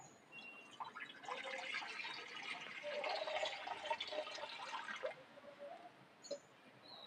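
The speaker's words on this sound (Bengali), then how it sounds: "কড়ার মধ্যে আমি সামান্য পরিমাণে একটু জল দিয়ে দেবো" A small amount of water is poured into a wok on a stove, making a continuous splashing, filling rush for about five seconds that then drops to a quiet hiss and a faint clink.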